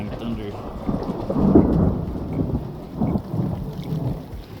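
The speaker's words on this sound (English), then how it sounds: "Whoa, here we go, more lightning, thunder." Thunder rumbles through a thunderstorm with rain falling, a low rolling roar that swells in the middle and again near the end, steady rainfall beneath.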